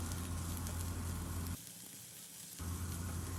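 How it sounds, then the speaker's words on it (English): Baby corn and garlic sauté in a pan over a medium flame with a soft, steady hiss. The hiss thins out briefly in the middle, then returns at the same low level. "On medium flame we will saute the baby corn along with the garlic for a minute or so"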